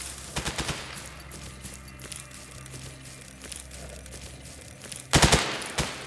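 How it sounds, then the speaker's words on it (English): Gunfire in the video game STALKER Anomaly: a short burst of rapid shots at the start and another loud burst near the end, with quiet ambient background between them. "What are you shooting at, dude?"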